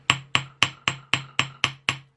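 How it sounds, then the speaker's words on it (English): A steel ball peen hammer taps a metal jump ring resting on a block, eight sharp, evenly spaced metallic strikes in quick succession, close and clear with no talking. "popped it on my block using the steel hammer, so the ball peen hammer"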